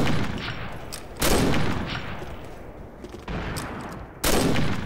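Bursts of automatic gunfire in a multiplayer shooter match, several loud volleys with short gaps between them and a steady rattle of shots in the background.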